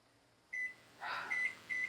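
Electronic timer beeps indoors, short high tones repeating in a few bursts at moderate volume, with no talk over them.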